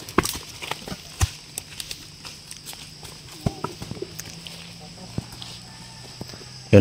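Horse hooves clip-clopping at a walk on a coconut farm, with a carabao nearby; sparse, irregular hoof knocks come through faintly over ambient background, with a louder bump at the end.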